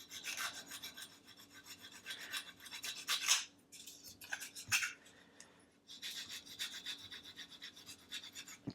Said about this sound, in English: if I start sanding the top of this